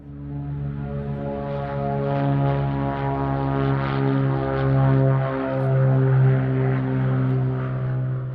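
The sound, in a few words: combustion engine of a chase plane flying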